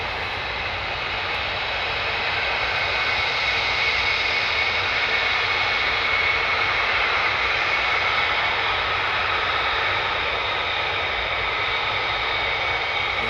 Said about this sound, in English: Two F-15s joining this lot.